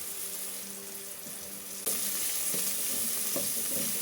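Tomatoes soften in a hot pan with a quiet, steady sizzle that swells louder partway through, with a few faint clicks and stirring sounds and no talking.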